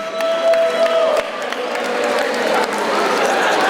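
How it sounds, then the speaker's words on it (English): Steady applause and cheering from an audience greeting a high school principal at a football signing ceremony, loud and continuous throughout with a few whoops rising above it. "please give a round of applause for our principal, Melanie McElhaney."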